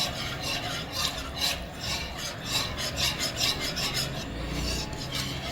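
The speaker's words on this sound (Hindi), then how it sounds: "मिल्क थोड़ा थोड़ा करके हम ऐड करेंगे और विस्क करते रहेंगे" A whisk scrapes and rubs rhythmically against a pan as milk is stirred into a sauce, a close, steady rasping with quick repeated strokes and no talking.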